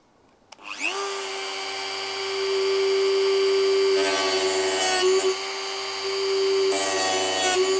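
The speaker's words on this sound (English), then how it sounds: "I'm going to cut the rail to length now across here" A small power tool, likely a rotary cutter, cuts a length of model railway rail with a steady high motor whine. It spins up after a click, then grinds harder in two bursts as it bites into the metal.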